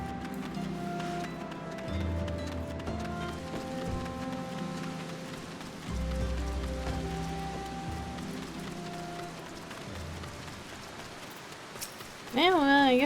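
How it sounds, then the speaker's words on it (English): Constant rain patters with wind noise and low droning tones running underneath in a video game; a voice speaks briefly near the end. "In the rain and the wind."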